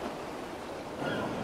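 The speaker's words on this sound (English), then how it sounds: "The waves are getting steep." Ocean waves in the game Kingdom Hearts Dream Drop Distance, a steady faint wash of surf and rushing water with no pauses, heard alone for a brief moment.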